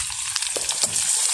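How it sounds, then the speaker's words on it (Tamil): Onion, garlic, fennel, fenugreek and curry leaves crackle and sizzle in hot oil in a village kitchen, a steady close frying hiss with brief pops and a stir partway through. "வெங்காயம், உள்ளி, பெருஞ்சீரகம், வெந்தயம், கருவேப்பிலை எல்லாம் போட்டு தாளிச்செடுக்க போகிறோம்"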